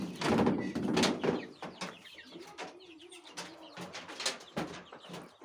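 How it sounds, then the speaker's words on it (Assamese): Young chickens raised at home, about a month old, give soft repeated cooing and chirping calls close by, several birds at once in uneven bursts. "চৰাইকেইটা এনেকুৱা ডাঙৰ হৈছে দেখিছেনে"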